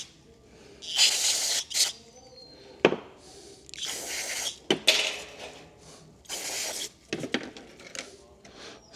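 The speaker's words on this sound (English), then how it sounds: "we'll take some carb cleaner and clean out our filter" Carburetor cleaner sprayed in several short bursts onto a filter during small engine maintenance, close and hissing, with gaps of handling noise between the sprays.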